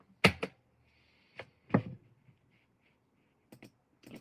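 A few sparse, close keyboard keystrokes on a slow computer keyboard, coming in separate bursts with quiet gaps between them in an otherwise silent room.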